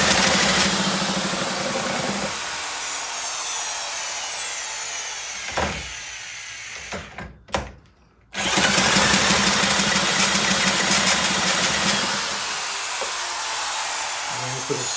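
A 1971 Johnson Mate 2 hp outboard motor runs loud and buzzy, cuts out with a few sputtering pulls, then restarts and keeps running steadily at close range with no talk.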